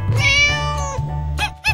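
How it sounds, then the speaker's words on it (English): A cartoonish cat meow sounds in a playful children's toy-reveal animation, one drawn-out nasal cry followed by two short chirping mews, loud and close over a low steady hum. "Cat."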